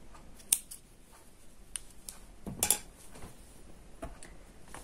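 Scissors snip knitting yarn with a few sharp, close metallic clicks spaced across a quiet moment, with no talking.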